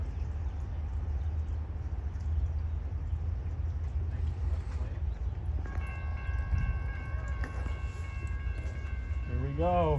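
Amtrak's Southwest Chief, passenger train number 3 from Chicago to Los Angeles, rumbles steadily past at Galesburg with continuous low wheel and engine roar, then a loud multi-tone horn sounds near the end.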